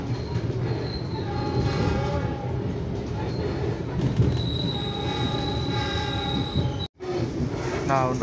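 Train wheels grind and squeal on the rails of a premium-class train between Bandung and Bogor, Java, over a loud, continuous rumble, with high screeching tones rising and fading, and a brief dropout near the end.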